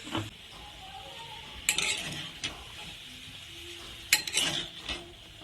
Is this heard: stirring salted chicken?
yes